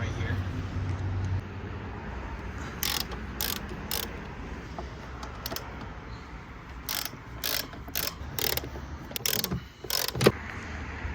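A ratchet backs out E18 bolts on the fuel pump of a BMW B58 440i, with bursts of sharp clicking in quick repeated strokes over a low background hum and some talk.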